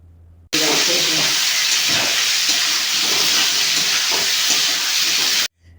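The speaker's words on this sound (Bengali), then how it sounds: "দুটো তেজপাতা দিয়ে কুচে মাছটাকে এবার অনবরত নাড়তে হবে" Kuche fish with two bay leaves stirred nonstop in a hot pan, giving a loud, steady broadband hiss of sizzling that holds evenly for about five seconds and then stops abruptly.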